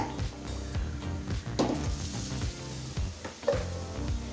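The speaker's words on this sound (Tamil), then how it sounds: "கோவக்காயை நல்லா வதக்கிக்கலாங்க" Ivy gourd (kovakkai) sautéed in a pan with chilli powder gives a steady close sizzle, with occasional spatula scrapes and a couple of louder clanks against the pan.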